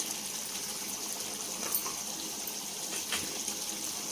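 Potato and egg curry bubbles in a pot, a steady soft hiss of simmering with faint pops and splashes throughout.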